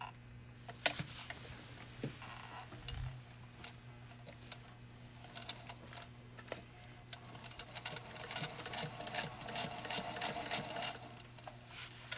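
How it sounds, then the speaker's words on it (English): Sewing machine stitching a small shoe for a Robert Tonner Grace Marie Fitzpatrick doll, running in short uneven bursts with rapid needle ticking over a steady motor hum, close by, with no talk. "So what we're going to do is stitch it."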